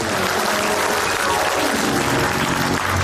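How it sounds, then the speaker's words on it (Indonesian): A comedy show's studio audience applauds for Komeng, a brief, loud, continuous burst of clapping with faint crowd noise and music-like tones beneath. "Tepuk tangan untuk Komeng"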